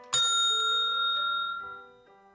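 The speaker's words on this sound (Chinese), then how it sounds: "只要听到铃声，" One clear ring of a bell signalling the move to the next station in a food inspection practical exam, struck once and left to hum and fade slowly, with no talking.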